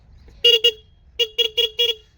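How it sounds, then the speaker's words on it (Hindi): A Hero electric scooter's horn honks six times, loud and close: two quick beeps, a pause, then four more short blasts in an uneven rhythm, with no voices. "हॉर्न बहुत ज़बरदस्त हॉर्न है, पूरा गूंजता है। ये सुना देता हूँ आपको।"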